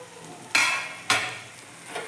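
Eggplant frying in a pan with green chillies, a bright sizzling hiss flaring in two sharp bursts as the pieces are turned, then a softer steady fry.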